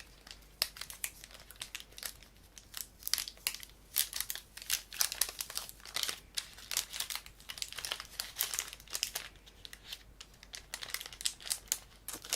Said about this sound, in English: I'll just unwrap this one too.